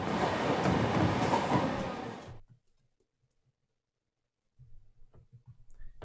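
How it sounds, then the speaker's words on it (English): A train in Higurashi: When They Cry pulls into its final stop with a loud rumbling roar that cuts off abruptly into near silence, then faint low clatter resumes quietly afterward. "It seemed the train had reached its final stop."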